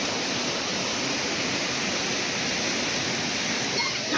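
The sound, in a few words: waterfall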